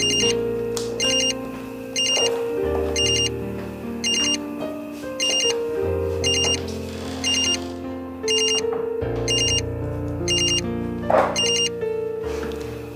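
A telephone rings again and again in short, evenly spaced electronic bursts, loud and close, layered over a steady musical score with no talking.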